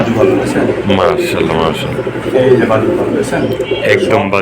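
Pigeons, Giribaz pigeons, coo in low, throaty bursts close by, while someone talks steadily over them.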